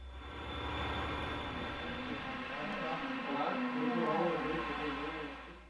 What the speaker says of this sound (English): The piggyback train traverses Red Rock Loop and continues west toward Summit.